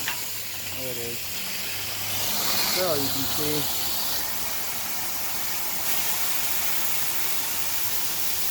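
Water rushes out of the drain valve of an old water heater tank, a loud broad hiss that surges and keeps gushing, with someone talking briefly at the start.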